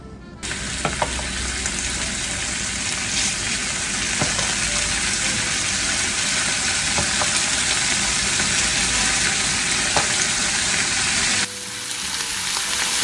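Fatty marbled meat, cut in half, sears in a frying pan for nikujaga with a loud, continuous sizzle and a few sharp pops and crackles, easing slightly near the end.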